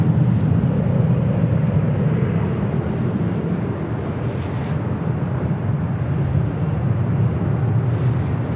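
A KLM Boeing 787-10 Dreamliner pushes back from the west gates at LAX, a steady loud broadband jet engine roar and rumble that holds constant throughout, heard from a distance.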